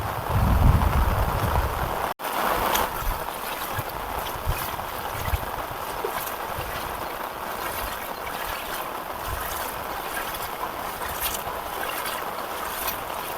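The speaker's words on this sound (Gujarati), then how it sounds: "વરસાદ એમ સારો આવી ગયો" Heavy rain pours down steadily in a broad, constant hiss and patter, with a sharp brief dropout near the start and no talking over it.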